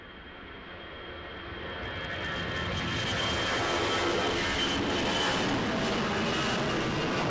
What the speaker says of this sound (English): EasyJet to Bristol on an A320.